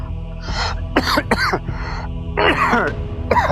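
Several harsh coughs and throat-clearing bursts come in quick succession, close and fairly loud, over a steady background hum.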